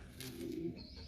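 Pigeons cooing softly inside a pigeon loft, a brief low rolling coo heard faintly in a quiet room.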